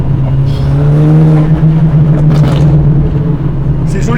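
A stage 3 tuned Golf 5 GTI engine revs, a loud, close droning growl that holds steady with slight rises in pitch, while voices chat faintly over it.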